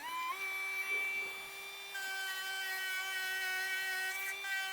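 A handheld Desptech rotary Dremel tool runs close by with a steady high-pitched whine, shifting up in speed near the start and again midway, and continues unbroken throughout.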